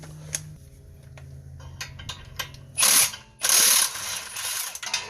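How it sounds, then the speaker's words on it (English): A power tool whirs in two loud bursts after a stretch of clicking and ratcheting, close and mechanical, loosening a nut during a Toyota Highlander lower ball joint replacement. "And then you need your handy dandy power tool."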